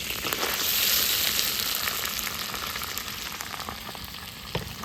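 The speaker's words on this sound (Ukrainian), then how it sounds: "масло розстало, тепер кидаємо грибочки" Mushrooms frying in melted butter for a mushroom soup, a steady close sizzle throughout with scattered soft crackles and no voices.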